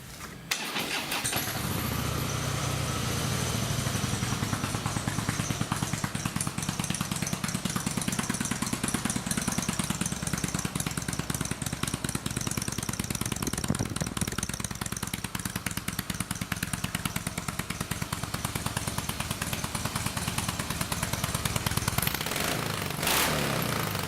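A Harley-Davidson Softail Breakout FXSB with low mileage fires up and settles into a loud, close, steady V-twin rumble that idles with an even, lumpy pulse for the rest of the stretch, with no talk.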